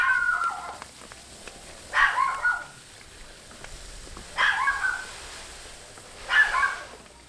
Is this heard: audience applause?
no